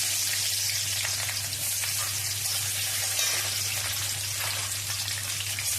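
Chopped onion frying in hot oil for a bata fish curry, a steady, dense sizzle and crackle that holds evenly throughout, close and fairly loud, with no talking.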